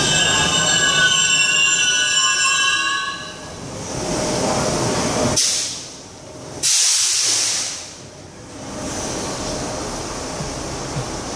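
Metro Rail train wheels squeal with a high, sustained screech and steady hiss, the sound swelling and fading as the car moves, with a brief break midway; no talking.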